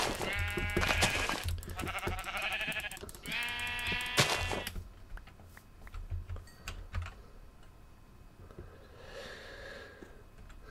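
Sheep bleat in the Minecraft video game, with several loud, wavering bleats packed into the first few seconds over rapid keyboard clicking, then a fainter bleat later amid quieter game sounds.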